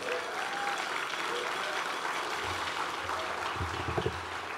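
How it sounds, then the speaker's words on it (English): An audience applauds steadily as a group of kids leaves the room at a community honoring ceremony, a dense, even wash of clapping with a few low thumps near the end. "Let's have another nice round of applause for these kids as they leave the room"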